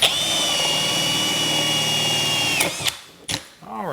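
A Milwaukee power drill cuts into a motorcycle with a loud, continuous whine that shifts pitch near the end, then cuts out, followed by brief revs and mechanical rattles.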